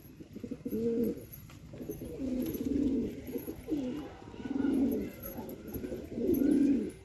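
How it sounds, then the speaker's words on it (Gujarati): Pigeons coo in soft, repeated throaty phrases, several rounded calls spaced every second or so, fairly close but quiet against a faint background. "બાકી બધા કબુતર આયા"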